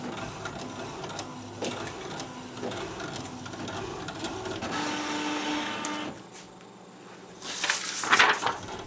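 An old colour inkjet printer, some twenty years old, prints a page with only black and magenta ink working: a steady mechanical whir and rattle of the print head and feed, with a brief lull and then louder clacking near the end.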